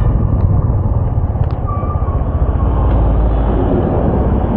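Steady traffic rumbles along the Kharagpur highway near Contact Town, a dense low roar of passing cars and heavier vehicles with no voices, holding continuously throughout.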